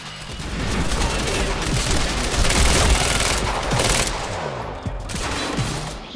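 Guns blaze in a Quantum Break firefight: sustained rapid gunfire with dense bursts and heavy reports, loud and continuous for several seconds, with someone talking faintly over it.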